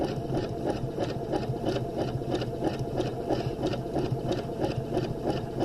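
Sewing machine stitching a zigzag edge-finish seam on fabric, a steady fast mechanical rattle running evenly throughout, close and alone.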